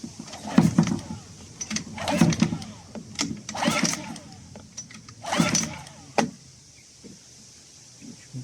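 Repeated pull-cord yanks on a Suzuki 6HP outboard motor that won't start, with several rasping bursts at irregular intervals and no catch, alongside a nearby voice.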